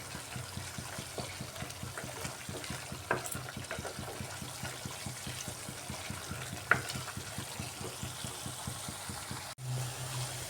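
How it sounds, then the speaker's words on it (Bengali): Spice masala for potol dolma being sautéed in a pan, a faint, steady bubbling sizzle as the moisture cooks off, with rhythmic gentle stirring and one brief clink, heard close with no talking. "মশলার সাথে যেহেতু জল আছে জলটা শুকিয়ে নিতে হবে ভালো করে কষিয়ে"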